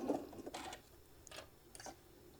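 A sewing machine fitted with a jean jumper runs a couple of quick stitches at a 3.5 stitch length. Short mechanical bursts of whirring and clicking sound faint and close, with pauses in between.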